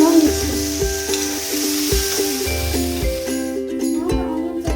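Chopped onions and chili stir-frying in a pan for egg bhurji, a steady sizzle with rhythmic spatula scrapes knocking against the pan, close and clear.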